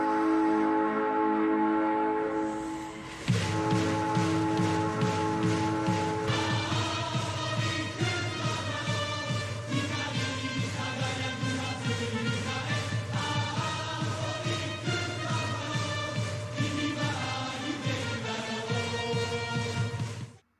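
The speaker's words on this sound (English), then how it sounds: "that is the Osaka Metro train horn. They usually toot it when they're leaving the station." An Osaka Metro train horn sound effect plays in a baseball video game: a loud, sustained harmonic tone that shifts pitch into a long, melodic series of held blasts with no talking.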